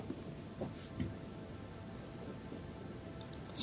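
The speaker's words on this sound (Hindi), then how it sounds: "तो इसको हम ऐसे लिख सकते हैं" A pen writes numbers on paper with soft, faint scratching strokes over a quiet room background, and no one speaks.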